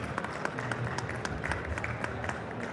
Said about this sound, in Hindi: जोरदार तालियां आप भी शामिल हो इस स्वागत में